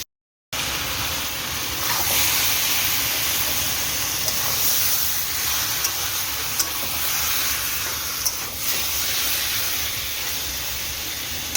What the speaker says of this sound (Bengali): জ্যান্ত চিংড়ি তো ভাজছি। আর এখানে হচ্ছে মাছ ভাজা।